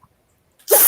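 A single sharp human sneeze, close and loud, preceded by a faint quick inhale after near silence.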